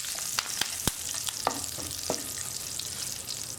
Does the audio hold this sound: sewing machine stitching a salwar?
no